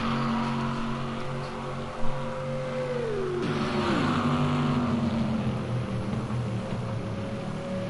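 An Aston Martin race car engine in a Le Mans racing game, a sustained droning whine that drops sharply in pitch as it shifts down, then settles into a steadier lower tone.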